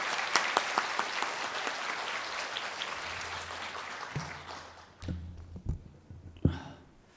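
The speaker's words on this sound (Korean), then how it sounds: "박수로 환영해 주십시오." A church congregation claps in welcome for a visiting guest, a dense burst of applause that thins into scattered, slowing claps and fades toward the end.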